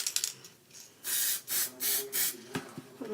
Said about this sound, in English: This is gold spray paint.